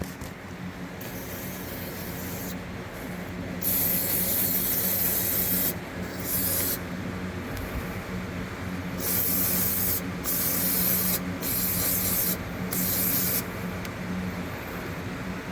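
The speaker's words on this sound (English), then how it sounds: "Go ahead and douse it down, try to clean it up. A little bit of parts cleaner." Parts cleaner aerosol sprayed onto the power steering of a 1997 Chevrolet K1500, heard as repeated hissing bursts of a few seconds each with short pauses between, close and fairly loud, with no talking.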